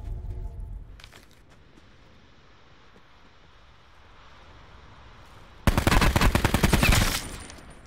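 Gunfire in a battle royale video game: a brief burst of shots early on, then a long, dense, loud automatic volley near the end, rapid and evenly spaced, with no talking.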